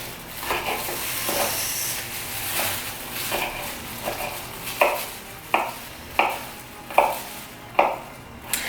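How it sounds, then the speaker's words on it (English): A kitchen knife chops garlic cloves on a cutting board, a series of sharp knocks that start irregular and settle into a steady rhythm, close and clear, with no talking. "A nice little trick is to get your knife and then just try to chop it up like that"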